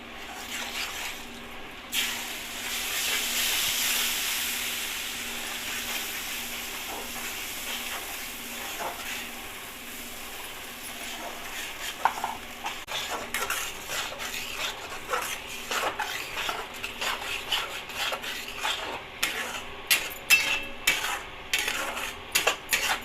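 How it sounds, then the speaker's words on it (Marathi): Ground masala sizzling and frying in hot oil, a steady hiss joined later by scraping and clinking of a spoon against the pan. "मिक्सरमध्ये ग्राइंड केलेला मसाला टाकला आपण सगळा आता याला छानपैकी असं फ्राय करून घेऊ"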